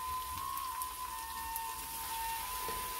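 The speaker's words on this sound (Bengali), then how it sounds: "এই রসুন এবং পেঁয়াজটা একটু বেশি করে ভাজতে হবে" Garlic and onion frying in a pan make a dense, even crackle and hiss that holds steady throughout, with a faint constant tone running beneath it.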